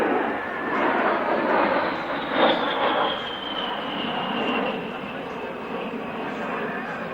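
An A-10 Thunderbolt jet climbs away on takeoff at the 2001 Mildenhall airshow, giving off a broad, steady roar with a faint high whine sweeping through it. A voice talks over the engine noise.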